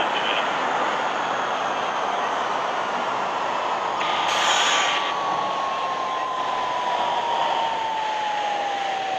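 An R46 subway train in the Hmmsim simulator runs on the E local line along 8th Avenue, a steady loud rumble and rushing roar with a slowly falling motor whine, briefly swelling midway.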